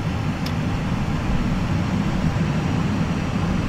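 An ITA Airways airliner starts its takeoff in the Prepar3D flight simulator on runway 06, with a loud, steady engine roar and rumble that holds evenly throughout, alone and without voices.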